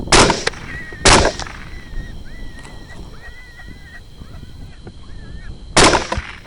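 Rifle shots fired at feral hogs in an open field, three sharp loud reports, two close together early and one near the end, with faint animal squeals and honk-like cries between them.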